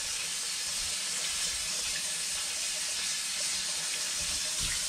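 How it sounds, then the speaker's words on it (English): Water pours steadily from a tap into a sink in a camp bathroom as hands are washed, a continuous close hiss and splash with no pauses. "I'll wash my hands real quick"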